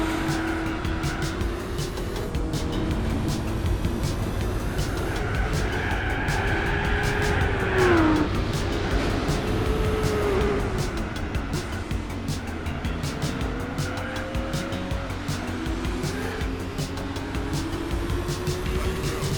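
Nissan Skyline ER34 in Blitz tuning, raced in Gran Turismo 4: a steady engine drone with rising and falling pitch as the car shifts and accelerates, continuous and fairly loud throughout.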